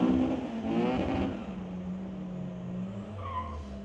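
At Mission Raceway Park, an Elantra and a Mercedes drag race on a street-legal night, with engine roar and tire noise loud at first, then fading into a lower, distant drone as the cars pull away down the strip.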